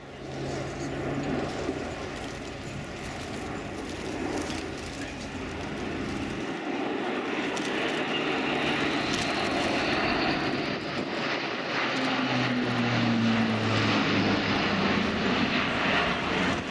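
Airbus A400M military transport aircraft in a flying display at an air show, a loud sustained turboprop engine roar that shifts in pitch as it passes, with a voice speaking faintly over it.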